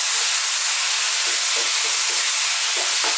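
Chicken chow mein noodles with soy and ketchup stirred in a hot pan, a loud, close, constant hiss of frying with a few soft scrapes and knocks of the utensil near the end.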